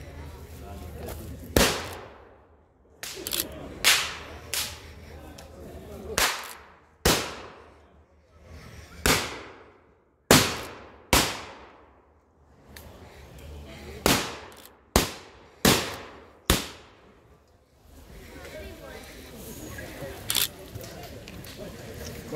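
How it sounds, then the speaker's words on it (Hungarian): Ceremonial rifle volleys fired by an armed honour group at the Rózsa Sándor Festival in Ásotthalom, Hungary: about a dozen sharp, loud outdoor shots in irregular succession, each ringing off with a short echo, over faint crowd murmur. "ha indulni fog a lövés"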